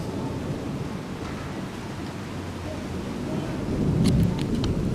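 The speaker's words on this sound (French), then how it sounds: "va faire un quart d'heure de tonnerre, fais-moi confiance, non-stop." Steady rain falls through an ongoing thunderstorm, low thunder rumbling continuously beneath it and building louder toward the end, with a few sharp drips close by.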